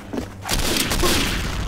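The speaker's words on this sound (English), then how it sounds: "Uh oh, bad grenade. Bad grenade!" A grenade detonates in the World War II shooter Day of Defeat, a sudden low boom that rises at about half a second and then rolls on as a sustained, loud rumble with broadband debris noise to the end.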